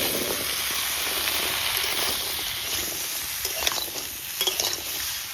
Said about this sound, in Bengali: কাঁকড়া সুন্দর করে ভাজা একদম হয়ে গেছে এবার এর মধ্যে কেটে রাখা আলু ওলকপি আর কাঁচা লঙ্কা দিয়ে